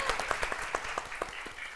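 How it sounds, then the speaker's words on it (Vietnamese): Applause from an audience at a comedic matchmaking show, heard as a short run of sharp, fairly regular claps that sound like only a few hands, with a faint voice underneath. "Vỗ tay quý vị ơi."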